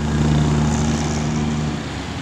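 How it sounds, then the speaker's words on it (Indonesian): Sujaya Jet Bus 3 tour coach bound for Bandung, a Scania K360 bus, passing close by with a steady, loud engine drone and low humming tones that ease slightly toward the end, with no talk. "Ini dia ada bis Suruh Jaya Jet Bus 3 pariwisata tujuan Bandung."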